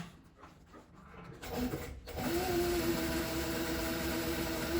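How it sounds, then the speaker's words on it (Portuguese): A sewing machine stitches a half-moon zipper pouch along its stabilized fabric side. After a quieter, uneven start, the motor settles into a steady, close, continuous hum with a rapid needle rhythm. "Vou costurar pelo lado que tá estabilizado, que é mais fácil."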